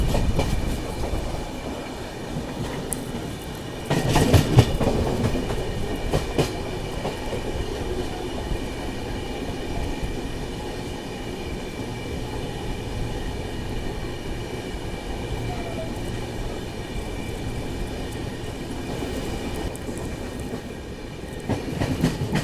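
A passenger train on an express run clatters along the rails with steady rumbling wheel noise, a brief louder burst early on, then a continuous mid-level roll throughout with no voices.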